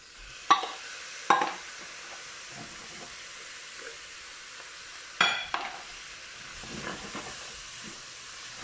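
Vegetables for chili frying in a pot, a faint steady sizzle and hiss punctuated by several sharp stirring clanks and scrapes.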